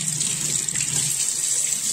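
Water runs steadily from a basin tap into a sink, a continuous close hiss and splash with no talking over it.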